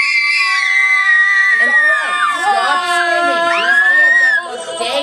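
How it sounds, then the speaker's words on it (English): Children playing reindeer characters scream together in a play rehearsal. Several overlapping high-pitched shrieks and wails rise and fall as a loud, close group outburst. "And then everybody screams, all the reindeer scream."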